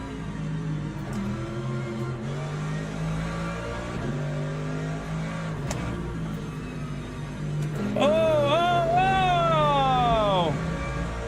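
Race car engine in Le Mans Ultimate droning at speed, rising through gears with whining upshifts near the end, loud and continuous, with someone talking over it.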